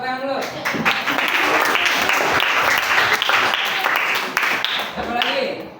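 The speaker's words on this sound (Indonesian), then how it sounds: "Bagus, tepuk tangan dulu" Students applauding in a classroom, a burst of dense clapping from many hands that swells and holds for several seconds before fading, with some voices mixed in.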